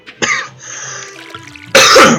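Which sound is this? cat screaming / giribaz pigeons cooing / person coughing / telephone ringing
person coughing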